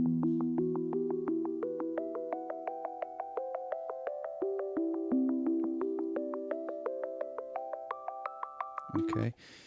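A synth arpeggio, played on an Akai MPC, repeats bright plucky notes in a steady pulse while the pattern steps up and down through chord changes, close and clean, then stops abruptly with a short burst of noise.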